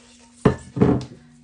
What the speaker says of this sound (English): Spatula, scrape everything down.